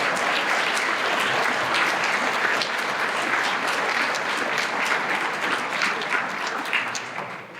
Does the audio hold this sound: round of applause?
yes